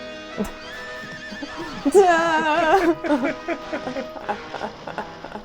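A horse whinnies loudly in the film Jason and the Argonauts, a long wavering neigh rising over a soundtrack bed with some clopping, heard on a VHS copy.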